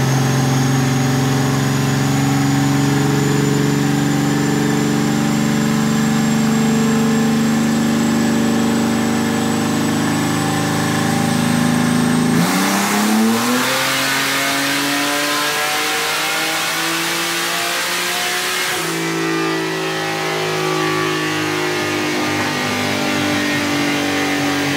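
A 4.2 liter car engine revs hard and steadily on a dyno, its pitch climbing through a long sustained pull, then drops and revs up again, loud and close throughout.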